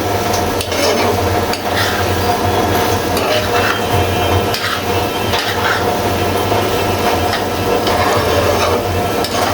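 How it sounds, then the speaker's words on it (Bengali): Taro stolons cooking with shrimp and coconut in a pan, a steady dense sizzle with occasional stirring scrapes and utensil clinks against the pan, continuous and close with no talk. "নারিকেল দিয়ে লতি এইভাবে রান্না করে খেয়ে দেখবেন"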